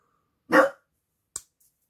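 A single sharp dog bark rings out close by in near silence, followed a moment later by a shorter, fainter yip.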